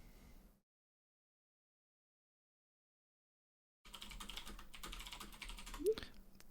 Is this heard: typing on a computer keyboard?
yes